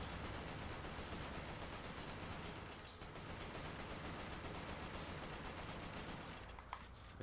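Rapid continuous gunfire from Resistance: Fall of Man, a dense, steady rattle of shots filling the whole stretch, with a few sharper cracks near the end.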